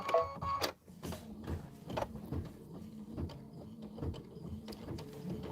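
Computerized embroidery machine stitching a winter mittens design, a steady mechanical rhythm of repeated needle strokes and soft clattering, close and fairly quiet, with no talking.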